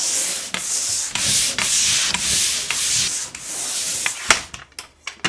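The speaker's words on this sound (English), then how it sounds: "So we're just gonna give it a light brush sanding just to knock off mainly like these rough spots." Steady, close scratchy rubbing of light sanding on drywall joint compound over a butt joint, repeated strokes in a quick rhythm with brief pauses between passes.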